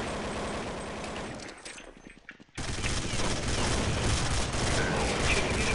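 Sustained, dense gunfire in the first-person shooter Counter-Strike 1.6 fills the scene, dropping out briefly and then returning just as loud and continuous.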